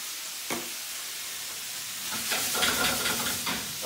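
Ground turkey curry sizzles and fries in a pan, a steady crackling hiss with a sharp stir or clack early on and a louder burst of frying toward the end.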